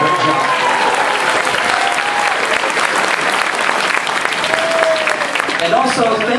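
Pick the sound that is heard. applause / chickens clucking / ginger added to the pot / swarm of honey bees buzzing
applause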